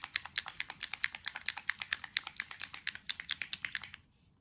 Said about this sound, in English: They have a little metal bowl in it, that's why you hear the clicking sound, to really shake the pigment throughout.